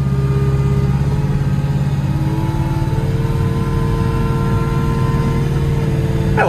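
Steady, loud engine drone of a JCB Teleskid skid steer running close by, a mid-pitched motor hum holding steady with slight shifts in tone and no talking.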